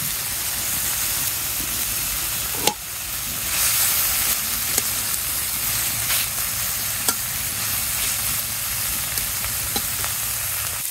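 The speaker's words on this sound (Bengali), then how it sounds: "আমার তেল গরম হয়ে গেছে একটু পেঁয়াজ দিয়ে দিলাম এইখান থেকে কিছু মাছ আমি ভাজি করবো" Onion and fish frying in hot oil in a home kitchen, a steady loud sizzle that runs throughout with occasional sharp clicks of a utensil stirring, no voices.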